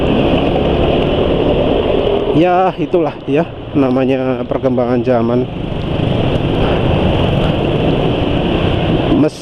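A new Honda Vario scooter engine runs rough and steady, a constant close mechanical drone that continues beneath someone speaking in Indonesian.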